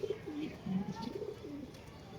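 A silver racer female pigeon coos softly in a steady, rolling series of low, throaty notes, heard close but quiet against a faint background hum.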